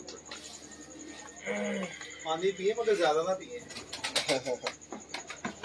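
Pigeons coo softly in the background, low rolling calls rising and falling, while people speak over them nearby.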